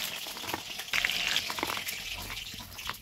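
Chicken pakora frying in hot oil, a steady soft sizzle and crackle with small pops, close and fairly quiet.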